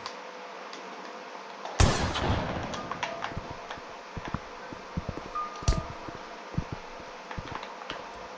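Gunfire in the Roblox game Granny: one loud, sharp blast rings out near the start, then a second burst comes later, over a steady fan-like hum and scattered small clicks and clatter.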